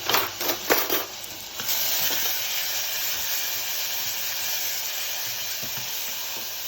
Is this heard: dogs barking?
no